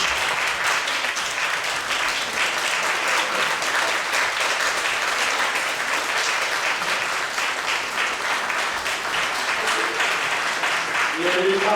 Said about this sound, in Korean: 우리 박수로 크게 박수